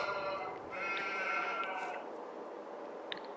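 Sheep in a farming video game bleat in a sustained, wavering call over a soft background bed, close and moderately loud.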